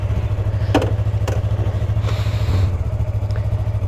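A Yamaha R3 motorcycle's engine runs in a steady, throbbing low pulse, close and moderately loud, with a couple of sharp mechanical clicks over the thrumming as the bike pulls away.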